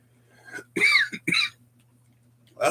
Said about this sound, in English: I don't know where this cough just came from